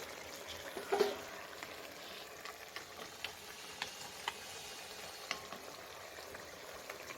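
A fish curry with bottle gourd bubbles in a pot over a village fire after fried lentil dumplings are added. A steady low simmering hiss carries scattered small ticks and pops, with one louder clink near the start and no voices.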